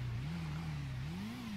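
A Honda Hornet 600 motorcycle engine revs in GTA V, a steady close buzzing drone that rises and falls gently in pitch, heard alone.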